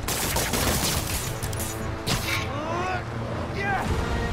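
Rapid gunfire from the Spider-Man Miles Morales video game rattles in dense bursts over busy game noise, with shots crackling close and loud throughout the short stretch.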